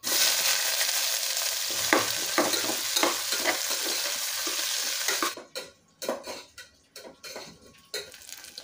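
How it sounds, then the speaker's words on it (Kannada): Sliced onions sizzle and fry in a pan with cloves and cumin for biryani, a steady loud hiss, then a spoon stirs and scrapes against the pan in short clattering strokes. "ಸೊ ಈಗ ಈರುಳ್ಳಿ ಫ್ರೈ ಆಗಿದೆ"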